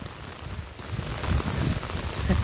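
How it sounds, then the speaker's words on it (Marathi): Heavy monsoon rain falls steadily in a village during Ganpati Chaturthi, a dense continuous patter that swells slightly louder toward the end, with no voices. "आता बघा पाऊस काय होता तो पावसाची दशा जाम बेकार आहे"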